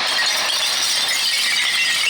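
Glass smashing at a recycling center, a dense continuous crash and tinkle of breaking bottles, loud and close, with no voices.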